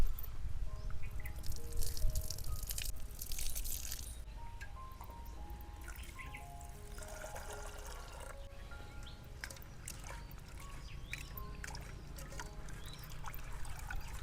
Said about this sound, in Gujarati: તો આપણે દાળને ધોઈ નાખવી।